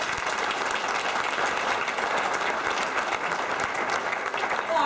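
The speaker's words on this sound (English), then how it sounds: "So I just want to give a round of applause to everyone that helped make this happen" Sustained audience applause at a youth career event keynote, a broad, even wash of many hands clapping at moderate level without pause.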